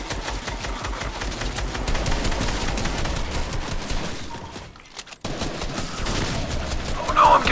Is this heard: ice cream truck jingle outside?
no